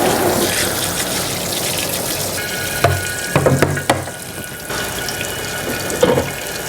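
A tap runs steadily into a deep kitchen sink as it fills with water to wash a Dutch oven, with a loud continuous splashing rush and a few clunks of things being moved near the basin.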